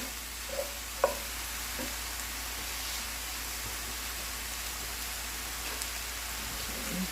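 Taco meat with taco seasoning sizzles steadily in a pan, a continuous close hiss and crackle with a couple of small clicks near the start and no talking.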